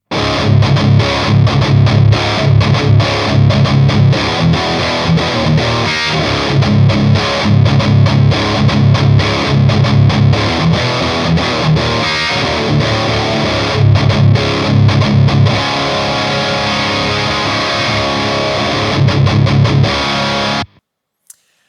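Heavily distorted electric guitar through the second channel of a two-channel amplifier plays loud, continuous riffs for about twenty seconds, thick and saturated, then cuts off abruptly.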